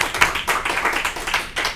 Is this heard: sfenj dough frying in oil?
no